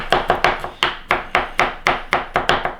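Knife chopping garlic on a cutting board while making garlic noodles, a quick run of about a dozen crisp, evenly spaced chops close up with no talk.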